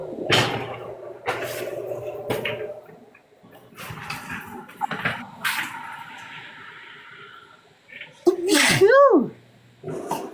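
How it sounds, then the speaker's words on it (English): A dog gives a few short, sharp sneezes among scattered clicks and movement noises, followed later by a brief whining vocal sound up close. "Bless you, Mocha."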